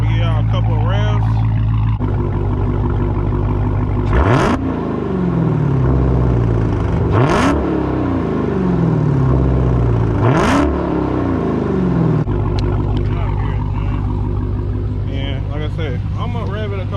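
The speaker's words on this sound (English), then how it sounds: "I'm gonna rev it a couple times." A Dodge Challenger Hellcat Redeye's V8 engine idles loudly in park, then revs sharply three times, each rev rising to a roar and falling back to a steady rumble.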